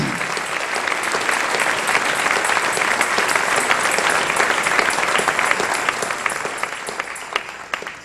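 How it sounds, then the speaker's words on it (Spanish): A church congregation applauds during a Sunday morning sermon, loud dense clapping sustained throughout and thinning slightly toward the end, with a voice faintly audible in the mix. "Dale un aplauso al Rey en esta hermosa y preciosa mañana"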